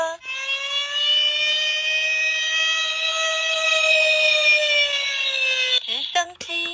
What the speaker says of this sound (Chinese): 消防车